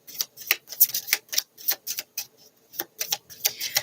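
Oracle cards are shuffled by hand in a rapid series of crisp riffling snaps and flicks, close and fairly loud, with no voice over them.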